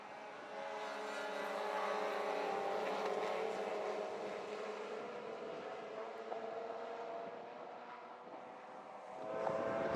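Mazda RX8 race cars battling at Phillip Island, a sustained engine drone swelling as the pack nears, then easing and picking up again at the end.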